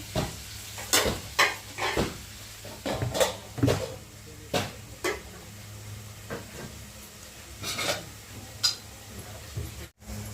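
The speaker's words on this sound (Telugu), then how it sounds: "టమాటాలు అయితే కొంచెం కలర్ మారేంత వరకు ఫ్రై చేసేసుకున్నామండి ఆయిల్లో" Tomatoes frying in oil crackle softly in a pan while a spatula stirs them, knocking and scraping in an irregular rhythm of close clicks over a low continuous sizzle.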